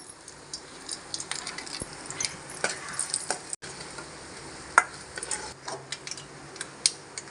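Light crackling and popping of cumin and mustard seeds sizzling in hot oil, scattered small pops over a steady faint hiss.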